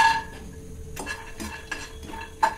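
Peanuts and sesame seeds dry roasting in a pan, with soft scraping and clinking as a spoon stirs them against the metal at a steady pace, close and fairly quiet, no talking.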